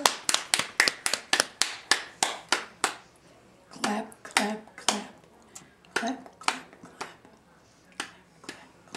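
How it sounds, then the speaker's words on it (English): A small child in a highchair claps her hands in a series of sharp, close, uneven claps, quick at first and then more spaced out, with faint adult voices now and then. "Clap your hands. Clap your hands."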